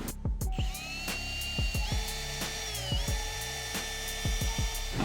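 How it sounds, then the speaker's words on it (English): A power drill boring a center hole in an Audi R8 wing, a steady high whine with shifting pitch running throughout, broken by repeated sharp clicks and taps, close and fairly quiet, with no talk. "I've got my center hole drilled"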